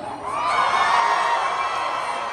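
A large outdoor crowd on the yellow team at a stunt dog show cheers and whoops loudly, swelling quickly and holding a sustained roar of shouting children and adults.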